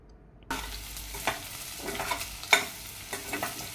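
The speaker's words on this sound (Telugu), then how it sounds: "కొంచెం గరం మసాలా వేసి తిప్పినాక" Garam masala stirred into egg fried rice with onions in oil in a hot pan: a spatula scrapes and clacks close up over a continuous sizzle that starts abruptly, with no talking.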